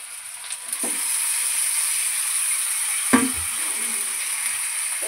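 Marinated small tengra fish hit a hot oiled pan with onions, setting off a steady close sizzle and frying hiss, with a few soft clatters from stirring and no talk.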